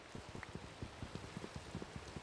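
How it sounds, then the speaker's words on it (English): Rain falls steadily in a video game, a soft, even patter of drops with faint rhythmic ticks, heard alone at low volume. "Because it's raining."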